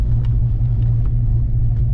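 A car running 19-pound injectors cruises through a neighborhood, its engine a steady, close low rumble from inside the cabin with slight fluctuations.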